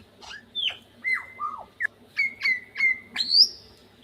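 A mimicking bird runs through a rapid string of varied calls: whistled sweeps, sharp chirps and repeated squawky notes in quick separate bursts, close and fairly loud over a faint low background hum.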